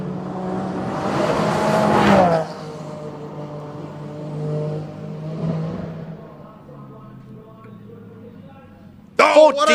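A race car at the Simola hillclimb, its engine roaring and then fading as it drives away, with a sharp burst near the end, under continuous commentary.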